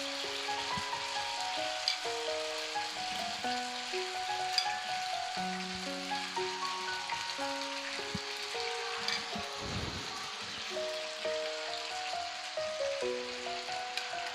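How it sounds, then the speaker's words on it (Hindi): Marinated chicken frying in hot oil in a pan, a steady close sizzle and crackle running throughout, with soft background music and no talk. "इसको अच्छे से फ्राई करेंगे।"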